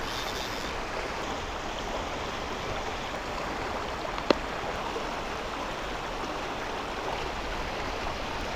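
A fast-flowing wild trout stream with white water rushes in a steady, loud, broadband roar. There is one brief sharp click midway and no voices.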